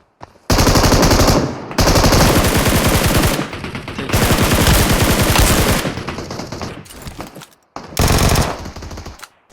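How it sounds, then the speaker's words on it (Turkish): Groza rifle gunfire in the video game PUBG: loud, rapid automatic bursts in several long volleys, separated by short pauses, with no talking. "Arkadan grozalı sıkıyor"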